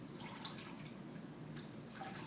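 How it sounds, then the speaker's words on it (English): Water trickles and drips from a handful of wet wool squeezed by hand during washing, a soft continuous patter of drops close by and fairly faint, with no talking. "So I'm just going to pull my wool out, and again, squeeze."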